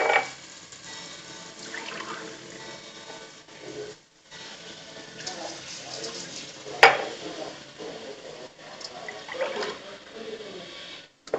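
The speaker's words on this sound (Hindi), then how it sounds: "हमने इसमें 4 गिलास पानी कर दिया है।" Water poured into a pan of frying masala with tomato and onion for a besan curry, giving soft splashing, sizzling and stirring sounds with a few sharp clinks, fairly faint and close, under a quiet speaking voice.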